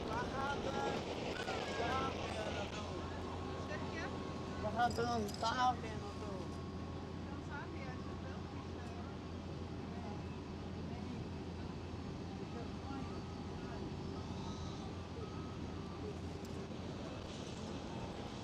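A DHL cargo airplane takes off from runway 18 left at Schiphol Amsterdam, a distant jet roar held steady and low under wind buffeting the microphone, with someone talking over it.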